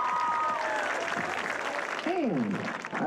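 Crowd applause for the 2022 homecoming king at Fairfield during a varsity football game, steady clapping and cheering throughout, with a faint announcer voice and a rising whistle-like tone near the end.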